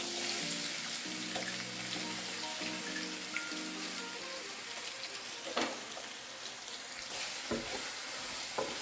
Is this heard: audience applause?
no